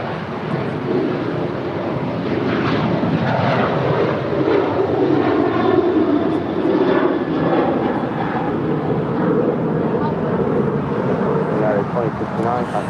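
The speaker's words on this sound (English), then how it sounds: "It's an 8-year-old 737-900 ER." A United Airlines Boeing 737-900ER, about eight years old, departing Los Angeles airport for Houston: a loud, sustained engine roar with wind buffeting, while people talk over it throughout.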